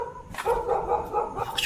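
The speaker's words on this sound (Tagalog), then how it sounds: "Oh, tumatawag na aso." A dog barks near an abandoned chapel, a quick run of several loud, sharp barks at moderate distance.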